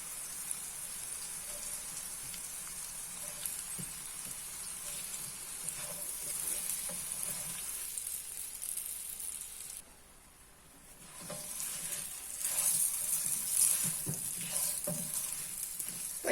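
Garlic potatoes fry in a pan with a steady sizzle and crackle. The frying dips briefly and quiets partway through, then returns stronger, close and continuous with no voices.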